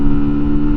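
A 2024 MUTT 125 adventure motorcycle engine runs hard and close up, with a steady, loud mid-pitched drone that holds even through the short burst as it is taken toward red line.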